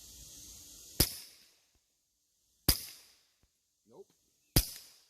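Three sharp, loud rifle shots fired through a Russian 509T Delta-Tek flash hider toward a small steel target about 30 to 40 yards away, each crack trailing off in a decaying echo, with a brief faint sound between the last two shots.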